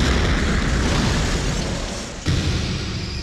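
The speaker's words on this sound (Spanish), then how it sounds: "¡El avión va a explotar!" A plane blows up in a film-trailer effect: a loud, dense roaring blast that fills the whole stretch, dips briefly, then bursts again with a sharp second hit and rumbles on.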